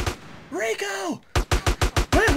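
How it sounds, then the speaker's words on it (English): Short bursts of rapid gunfire from GTA San Andreas crack in a quick run of about seven close, loud shots, following a stretch of voiced groaning sounds. "Where are they shooting from?"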